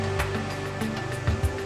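Roar of the Ivigen waterfall, a 130-metre fall in the Lenk area of Switzerland, a steady broadband rush of falling water with a few louder surges, no voices.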